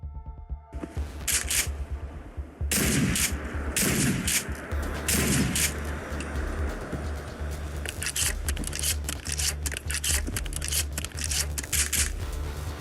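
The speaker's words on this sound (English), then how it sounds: "And the next one is the Police Pump Action Shotgun" A police pump-action shotgun modeled on the Remington 870, fired in a Fallout 4 mod, letting off several loud, close blasts in sequence, each followed by mechanical racking and clicking sounds.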